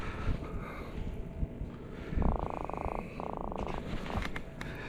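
A croaker fish caught from a kayak off Pensacola makes two short bursts of rapid buzzing croaks, close by, under steady wind and water noise.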